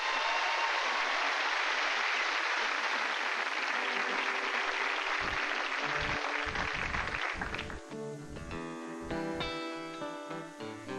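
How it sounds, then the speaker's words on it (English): Audience applause in a concert hall as local folk musicians walk on stage, a broad wash of clapping that gives way to instruments tuning and starting to play. "Give them a nice round of applause as they come on."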